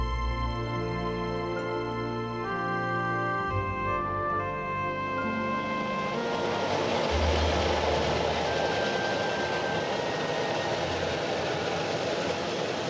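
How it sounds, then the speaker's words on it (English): A cog railway steam locomotive climbs a mountain through deep snow, giving a steady mechanical rumble and engine drone with sustained tonal whine, fairly close and unbroken, with no voices. "a mountain railway powered by a unique steam locomotive."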